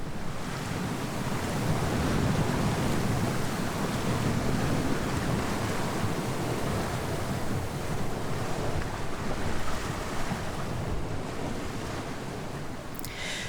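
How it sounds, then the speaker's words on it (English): Steady broadband hiss of water and bubbles rushing past a sailboat's cockpit under sail, with wind and surf noise, continuous and fairly loud throughout. "the sound of the hiss as the bubbles pass by the cockpit"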